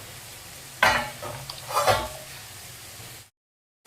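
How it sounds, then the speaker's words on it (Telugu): Tomatoes cook in a pan with a soft sizzle while a spoon stirs them in two scraping sweeps, close and moderately loud before the sound cuts off. "టమాటా చాలా బాగా మగ్గింది"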